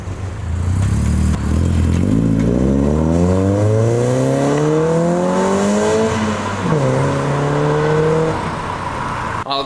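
A BMW car drives past, its engine revving up through repeated rising gear pulls, dropping at a shift and climbing again, loud and close with no talking over it.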